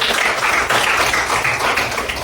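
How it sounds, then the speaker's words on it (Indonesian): A classroom group claps together in a teaching session on rukhsah in Islamic religious education, a steady, dense patter of hands lasting a couple of seconds, fairly close and even without any voices. "beri tepuk tangan buat"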